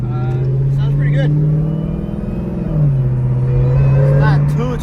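A Dodge Hellcat with a newly installed Corsa Xtreme exhaust, catalytic converters still fitted, idles with a deep, loud rumble and blips its revs, heard up close throughout.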